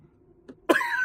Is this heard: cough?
yes